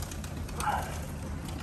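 Several white pigeons coo softly in a loft, with one low, throaty coo rising briefly in the middle over a steady background of birds and room noise.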